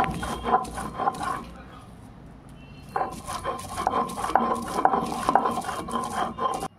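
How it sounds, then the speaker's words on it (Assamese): Bottle gourd leaf bharta is ground on a flat grinding stone with rhythmic rubbing strokes. The strokes pause briefly, then resume at a quicker, steady pace, close and moderately loud. "মই পটাত পিচিবলৈ আৰম্ভ কৰিলোঁ"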